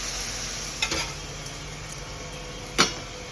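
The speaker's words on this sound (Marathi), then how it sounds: "आता आपली पालक जात आहे." Blended spinach going into a sizzling chicken curry cooked with kharda, a soft steady sizzle broken by a few sharp scrapes and clinks of the stirring spoon against the pan, close by and without voices.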